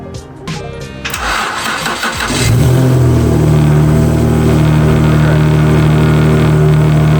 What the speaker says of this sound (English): The exhaust is sounding wonderful.